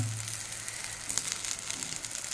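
Pea filling for winter koraishuti kochuri being stirred and cooked dry in a kadai gives a steady, soft, close sizzle with faint scraping and no talking.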